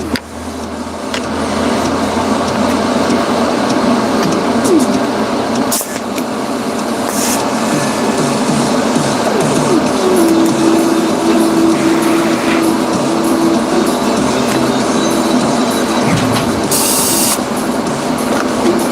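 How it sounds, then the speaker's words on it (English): Welding gives off a loud, continuous crackling hiss with a steady underlying hum, running close and uninterrupted for the whole stretch. "This is some fun welding."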